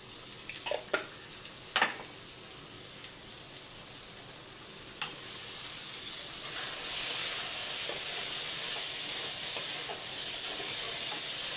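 Meal maker chunks frying with garam masala in a kadai, a steady close sizzle and hiss that swells louder midway, with a few sharp clinks of a stirring spoon early on and no talking.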